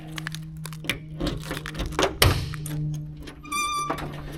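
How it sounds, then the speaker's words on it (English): The trunk lid of a 1983 Oldsmobile Cutlass pops open with a single sharp thunk and crack near the middle, among softer handling clunks and a faint high beeping tone at close range. "And go ahead, pop the trunk."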